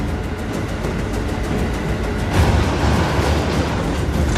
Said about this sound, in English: A commuter train is carrying hundreds of people to work.